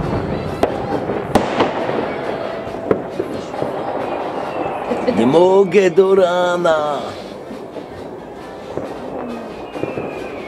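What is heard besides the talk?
firecrackers and fireworks going off on New Year's Eve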